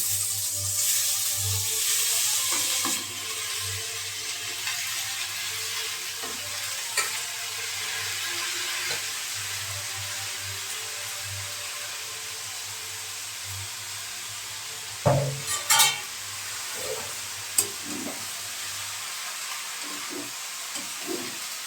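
Banana stem and potato sizzle and fry in a cooked-down spiced masala, with steady frying hiss throughout, a few louder stirring scrapes and clatters near the middle, and softer stirring toward the end.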